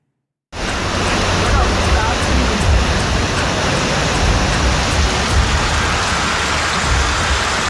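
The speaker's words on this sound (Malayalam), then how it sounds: "കരുവാരക്കുണ്ടിൽ കനത്ത മഴയ്ക്ക് പിന്നാലെ മലവെള്ളപ്പാച്ചിൽ" A flash flood after heavy rain in the hills of Karuvarakundu, Malappuram, Kerala: a dense, continuous roar of rushing water that begins abruptly and stays loud and unbroken throughout.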